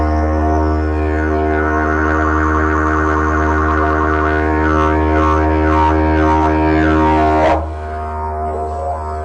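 Didgeridoo drone with a deep steady hum and a rhythmic, whooshing warble made by the tongue, imitating a boomerang spinning through the air, then a sudden drop in intensity.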